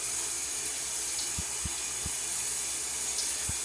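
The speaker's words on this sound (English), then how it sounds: "we have to come in here and turn the cold water on" Cold water running from an indoor faucet, a steady loud hiss throughout with a few soft knocks underneath.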